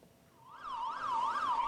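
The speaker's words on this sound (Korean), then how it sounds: "긴급 출동한 소방차가 불법 주차 차량을 들이받으며 골목길을 통과합니다." A fire engine on an emergency call in a narrow Korean alley sounds its wailing siren, rising and falling in smooth repeated sweeps that grow louder as it approaches, with no talk over it.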